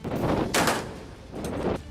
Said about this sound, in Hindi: अभ्यास के दौरान जंगी जहाज में लगी तोप से गोले दागे गए और मशीन गन से भी फायरिंग की गई।